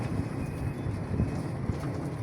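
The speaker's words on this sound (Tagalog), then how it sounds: "Lakas ng hangin mga idol" Strong wind buffets an outdoor microphone with a steady, low, rumbling roar for a couple of seconds. Nobody speaks.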